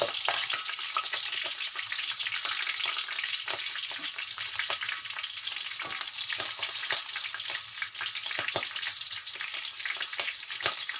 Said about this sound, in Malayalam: ഇനി നമുക്ക് ആ എണ്ണയിലേക്ക് തന്നെ മൂന്ന് പച്ചമുളക് നീളത്തിൽ ചീരതാണ് അതിട്ട് കൊടുക്കാം